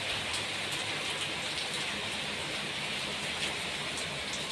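Heavy, wind-driven rain pours down onto a street in a steady, dense roar that continues unbroken from start to finish, close and loud with no voices over it.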